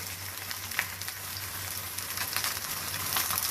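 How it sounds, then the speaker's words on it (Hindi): Eggplant slices frying in oil in a pan over high heat, a steady close hiss and crackle of sizzling with small pops, growing slightly louder toward the end. "ये देखिए, ये फ्राई हो रहे हैं,"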